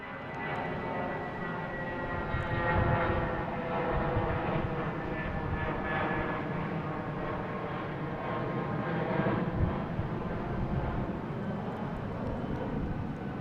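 Delta airliner arriving from Atlanta at Boston Logan International Airport, a steady broad jet roar with a low rumble that holds fairly constant throughout, heard from a spotting position near the runway.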